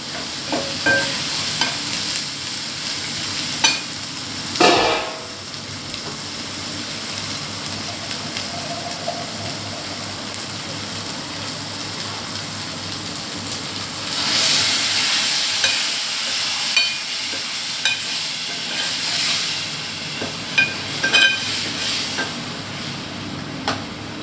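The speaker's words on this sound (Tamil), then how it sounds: "கொஞ்சம் கொதிக்கட்டும் மிளகாத்தூள் வாசனை போகிற அளவுக்கு நம்ம கொதிக்க விடணும்" Steady bubbling and simmering of okra tamarind curry in a pan, with occasional stirring scrapes and louder bursts, continuous throughout with no talking.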